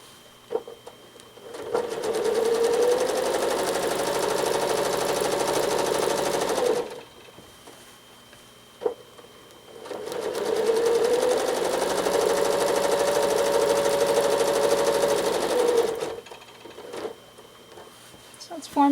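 A sewing machine stitches during free-motion quilting, humming in two long steady runs of rapid needle strokes whose pitch rises slightly as it speeds up, separated by a quiet pause with faint clicks.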